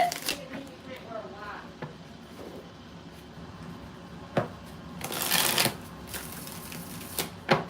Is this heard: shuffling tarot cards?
yes